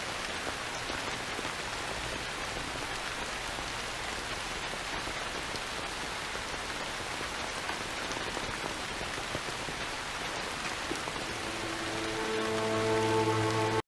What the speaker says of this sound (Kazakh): Қатты жауған жаңбырдың кесірінен көшеде ешкім жоқ еді.